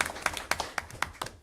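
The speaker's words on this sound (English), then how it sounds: "That's worth another applause." A small audience at a county school board meeting claps briefly, giving a short run of fairly quiet, uneven hand claps.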